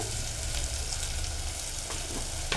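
Spices and asafoetida sizzling steadily in hot oil while a pulusu is being prepared, a close, dense frying hiss with a faint stir or two near the end.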